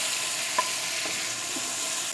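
Hot oil sizzles and crackles steadily as four large tomatoes fry after a cumin tempering, a soft continuous frying hiss with a couple of faint clinks.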